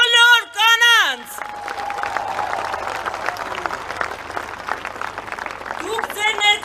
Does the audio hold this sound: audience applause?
yes